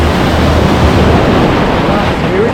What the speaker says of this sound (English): There's a little shore break action going on, and it goes deep right away.